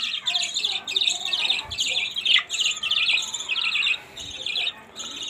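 Pet birds kept in a home setup during winter chirp and tweet continuously in dense, overlapping high calls, close and fairly loud, with brief squawks and no talking.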